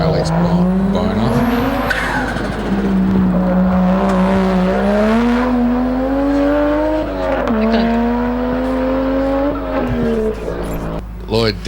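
Hillclimb race car running through the finish line, a loud engine drone with shifting pitch as it revs and changes gear, tyres squealing, with commentators talking over it throughout.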